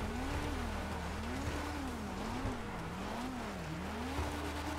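A fast car cruises onto a freeway in GTA 5, its engine holding a steady low drone with a wavering, cycling tone, moderately loud and continuous with no one talking.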